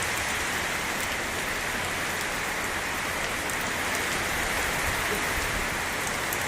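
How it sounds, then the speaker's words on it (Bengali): Heavy storm rain in a village during mango-gathering weather, a dense steady roar of drops pounding the ground and surfaces, loud and unbroken throughout with no voices. "ভীষণ বৃষ্টি আরম্ভ হয়ে গেছে।"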